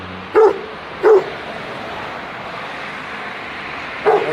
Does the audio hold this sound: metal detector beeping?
no